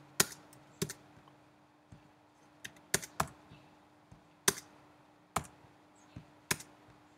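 Computer keyboard typing while entering product data for an ASP.NET Core MVC web app: sparse, crisp key clicks in small irregular bursts, close and fairly quiet over a faint steady hum, with no talking.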